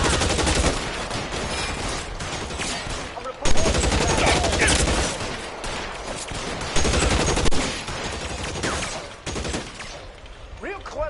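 A shootout in the video game L.A. Noire, with loud, repeated bursts of gunfire in rapid succession and voices talking over the shooting throughout.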